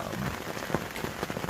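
Hard rain drums on a hunting blind tucked into weeds, a dense steady patter with scattered louder drops landing close by, no voices.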